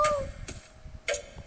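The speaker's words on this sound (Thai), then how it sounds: "นาฬิกาโบราณ" An antique clock in the horror video game Doors gives a few sharp, fairly faint ticks at uneven spacing over soft game ambience, with a voice murmuring nearby.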